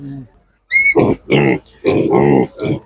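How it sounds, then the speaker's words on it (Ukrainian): Pigs for sale at an animal market give a series of close, throaty grunts and a short higher squeal, following one another in uneven bursts. "Ось такі свинки."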